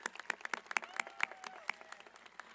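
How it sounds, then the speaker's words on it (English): A graduation audience applauds teachers at a high school ceremony, sparse, quiet, irregular claps sounding thin and somewhat distant. "Give them a round of applause"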